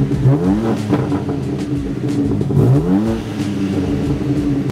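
A BMW M3 Competition fitted with an M Performance exhaust, revved hard twice at close range, with loud rising and falling engine sweeps over a constant rumble and no voices.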